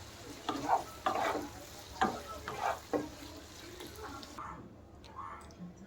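Ghee chili potatoes with scattered whole poppy seeds being mixed in a pan, giving a quiet sizzle broken by several close scraping strokes of the spoon, with the noise cutting away near the end.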